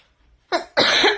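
Two harsh, close coughs break a near silence, a short one followed by a longer, rougher burst.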